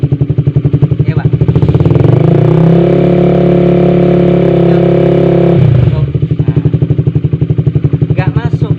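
A Honda CB150R motorcycle with a charging fault idles with a steady pulsing throb, is revved up to a loud sustained roar for a few seconds, then drops back to idle, while a person talks over it.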